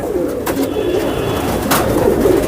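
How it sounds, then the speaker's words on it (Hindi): Several pigeons coo in low, throaty murmurs, close by and continuous, with a couple of brief rustling bursts like wingbeats. "ये है बहुत ज़बरदस्त कबूतर"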